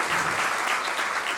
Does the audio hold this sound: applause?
yes